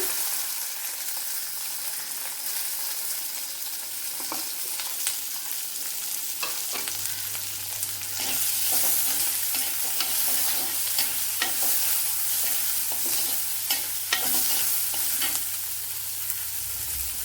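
Small onions, alongside garlic, frying in hot oil in a pan for an okra and pumpkin curry: a loud, steady sizzle with scraping stirs and crackles, close up, with no talking.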